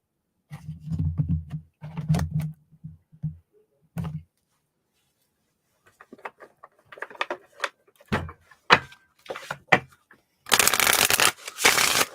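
Oracle cards being shuffled by hand in quick riffling bursts, close and crisp, with short pauses between rounds and a longer, denser flurry of card noise at the end.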